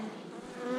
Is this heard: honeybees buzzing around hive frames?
yes